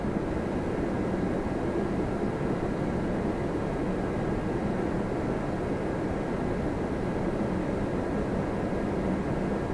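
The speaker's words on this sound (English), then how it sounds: "I do like when we get to see them a little bit more up close as they taxi off the runway" Airplanes taxiing off the runway at Toronto Pearson airport, a steady, fairly close jet engine rumble and roar that holds evenly throughout with no voices.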